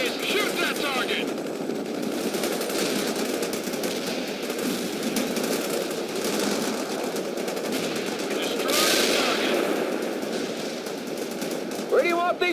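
Sustained automatic gunfire and explosions from a World in Conflict battle, dense and continuous throughout with a louder burst near the middle, radio-style military voices speaking over the combat.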